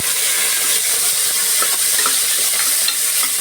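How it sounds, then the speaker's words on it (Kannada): Loud, steady sizzle of beans and onions frying in a pan, a bright continuous hiss with scattered crackles and the scrape of stirring close by, no voices. "ಈಗ ಇದನ್ನು ಹೀಗೆ ಫ್ರೈ ಮಾಡ್ಕೊಳ್ಳೋಣ"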